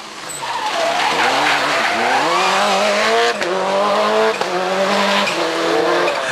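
Subaru Impreza WRC rally car at a rally near Antibes, engine roaring loud and close with rising and falling revs while tires skid and squeal continuously across the surface.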